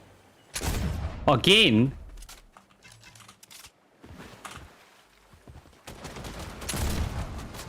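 Gunfire in the video game PUBG crackles in a few broadband bursts across the stretch, mixed with a person talking, with louder volleys near the start and end.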